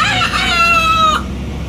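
A man imitates a rooster's crow: a single close, loud, drawn-out call lasting just over a second that rises and then breaks off, followed by a faint background hum.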